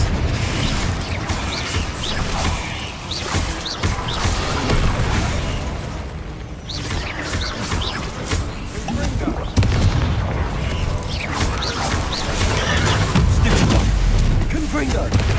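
Repeated booming spell blasts from Confringo casts in the game Hogwarts Legacy, dense and loud across the whole stretch, layered with clanging combat effects and a voice talking over the fight.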